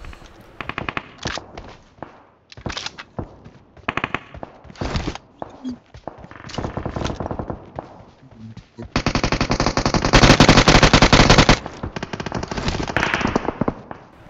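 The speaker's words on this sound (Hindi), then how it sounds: "सामने मैंने गन फायर की आवाज़ देखी है" Rapid automatic gunfire from the battle royale game BGMI, with bursts of machine-gun fire and scattered shots up close, including a sustained loud volley late in the clip, plus quieter footstep-like ticks between bursts.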